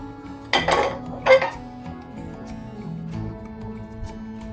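A metal pressure cooker set down on a gas stove while making sambar: two sharp metallic clanks close together, then a low steady background hum.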